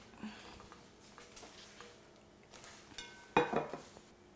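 Carrot cupcakes being plated, with a few quiet clinks of dishes and cutlery and one sharper clatter of a plate being set down near the end.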